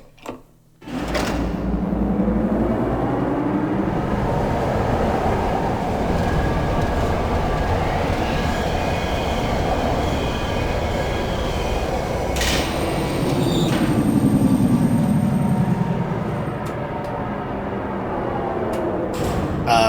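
Steady rolling rumble of a train ride in the puzzle game Riven, heading to island number 4, with a loud start after a brief quiet moment, a continuous clattering drone and a swell near the end, no talking.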